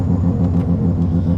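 A loud Bridgeport-ported rotary Mazda RX-7 cruising on the highway, its engine a deep, steady, pulsing drone heard close from inside the car.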